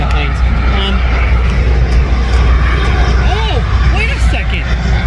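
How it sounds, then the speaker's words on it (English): An airplane landing at Teterboro Airport produces a steady, loud engine roar that stays constant throughout, with people talking over it. "That plane is landing at Teterboro Airport."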